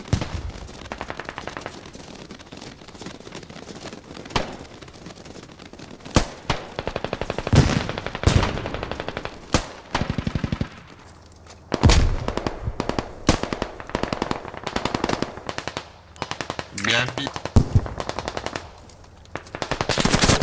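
Machine gun fire in the Squad video game crackles in long, loud bursts with short pauses, sharp rattling shots from close by and some distant pops between them.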